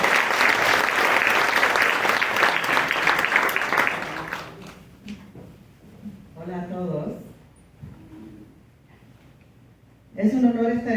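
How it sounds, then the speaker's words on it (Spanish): Audience applause at a book presentation on feminism in Peru, a dense burst of clapping for about four seconds that fades into speech, then a brief renewed wave of clapping near the end. "Por favor, recibamos con cálidos aplausos a Silvana M. Falcón y a Shelley Gray."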